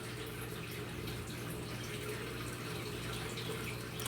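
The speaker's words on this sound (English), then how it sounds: "It's still got a constant flow of water and it's still doing its job." A newly set-up aquarium canister filter keeps a steady, continuous wash of flowing water, a constant even rush with a low hum underneath and no pauses.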